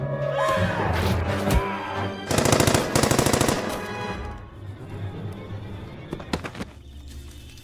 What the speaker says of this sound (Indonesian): Tanpa rasa belas kasihan, ia langsung menembak mati temannya.